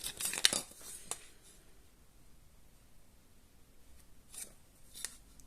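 Scissors cut thin kraft paper into strips, with a quick run of crisp snips at the start and a few more near the end, close and clear over a quiet background.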